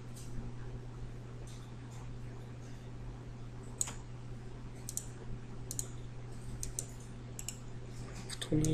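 Sparse keyboard clicks and mouse taps at a computer during image editing, scattered soft clicks over a steady hum, no talking.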